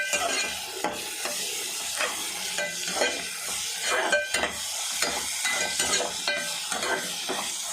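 Chicken liver and egg fry in a pan with a steady sizzle, while a utensil stirs and scrapes in repeated strokes. The cooking is close and clear, with no voices.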